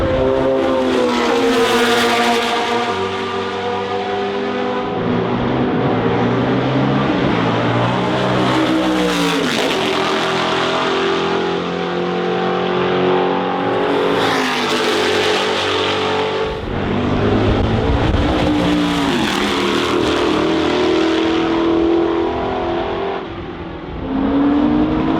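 Historic race cars scream past on a track at a historic racing event, one after another, loud engines rising and falling in pitch as each passes the grandstand, continuous and without talk.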